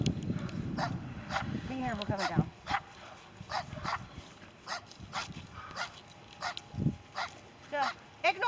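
A small loose dog yaps in repeated sharp, high barks outdoors at a cemetery, some close and loud, others spaced out, with someone speaking over the first few.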